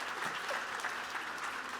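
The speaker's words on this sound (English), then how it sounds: "Can we give our panel a round of applause?" Audience applause for a panel at a Canadian Women in Cybersecurity event, steady dense clapping from a room of people, even and sustained throughout, no voices above it.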